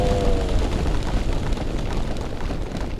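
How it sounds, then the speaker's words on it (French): A dense, roaring rumble of a large explosion fills the whole clip, loud and continuous with crackling debris-like texture throughout. "Attention, largage de la bombe. Ouah, explosion, explosion, explosion."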